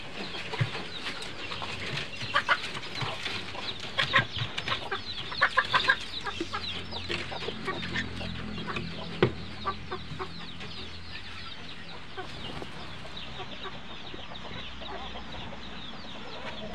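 Chickens cluck and chatter continuously inside a coop, with several birds calling at once, a few louder squawks standing out and occasional wing flaps nearby.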